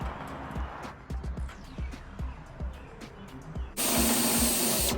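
Working on the trunk lid of a 2015 Mustang GT for a GT500 spoiler install, a series of soft rhythmic knocks gives way to a loud, sustained whine as a drill with a step bit widens a hole.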